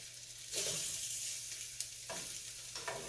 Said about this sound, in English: I added some oil spray to my pan. And now I'm just flipping them.